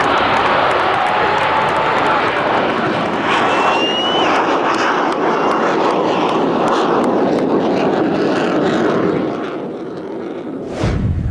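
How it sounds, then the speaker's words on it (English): F-14 Tomcat fighter jet on its final flight, a loud, sustained broadband engine roar filling the whole clip with a steady rumble and faint whine, easing slightly near the end. "the last flight of the F-14 Tomcat"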